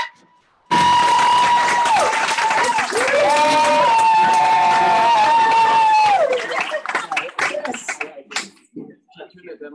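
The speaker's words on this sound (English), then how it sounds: "Can you ask Andrew a round of applause?" An audience at a real estate agent mastermind event bursts into loud, dense applause and cheering, mixed with a sustained tonal whine like microphone feedback, before thinning into scattered claps.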